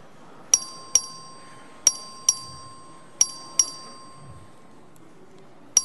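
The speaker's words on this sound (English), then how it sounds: "The clerk will ring the bell." A voting bell rings in a legislative chamber, struck in clear pairs of bright metallic dings with short ringing tails, repeated about four times against a quiet room.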